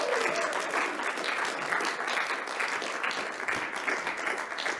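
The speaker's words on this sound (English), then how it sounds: "Round of applause for the actors" Audience applause for actors after a play reading, steady, dense clapping from a crowd, sustained and even throughout with no voices standing out.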